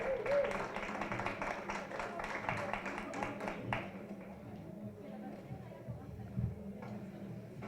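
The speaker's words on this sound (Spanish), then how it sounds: "Pueden prolongar el aplauso" An audience at a rights communication event keeps clapping, a busy patter of hands for the first few seconds that thins out and fades into quieter room noise and murmuring voices.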